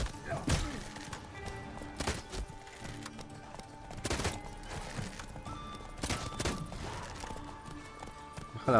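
Horse hooves galloping in The Witcher 3 during mounted combat. Heavy hoof thuds pound in a loose rhythm alongside sharp combat impacts, with game sounds and a little voice mixed in.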